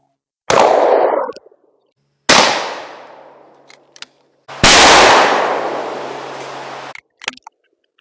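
Loud, sharp blasts from a Remington SPR 210 20-gauge shotgun firing Kent Ultimate Fast Loads at a target, each one followed by a long, fading outdoor echo, with a faint click between them.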